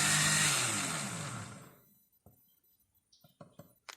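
Blender whirring as it mixes mayonnaise with oil, a loud steady motor whine that winds down and stops after about two seconds, followed by a few faint clinks and knocks.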